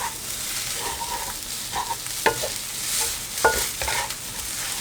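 Glass noodles with cha-om and shrimp are stir-fried in a pan, giving a close, continuous sizzle broken by scraping stirring strokes, with no talk.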